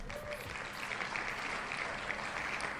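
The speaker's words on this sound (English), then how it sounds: "Don't know why we're clapping." Steady applause fills the whole stretch, a dense even wash of many hands clapping without pause, fairly loud and continuous.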